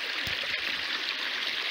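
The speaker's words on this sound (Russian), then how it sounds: "Спускаюсь по ручью до дороги." A mountain stream flows steadily close by, a constant broadband rush and trickle with no voices and no break.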